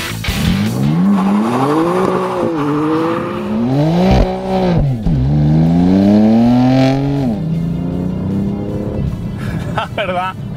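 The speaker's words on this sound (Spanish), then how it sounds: "La verdad que es una pasada cómo acelera este coche" A 2018 BMW M3 Competition accelerates hard on a race circuit, its engine pitch climbing repeatedly through the gears with short dips between shifts, loud and close, while a voice talks over it.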